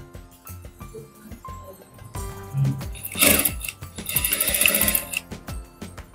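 A sewing machine runs in short bursts and stitches a lining strip onto a katori blouse for the hook side, a rapid mechanical whirr that starts and stops, with light handling clicks between runs.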